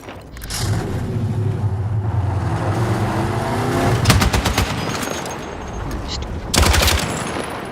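A vehicle engine drones and revs in the video game Battlefield 6, joined by loud bursts of rapid gunfire, with the engine strongest early on and the firing breaking out twice over it.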